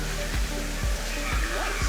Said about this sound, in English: take a look at that waterfall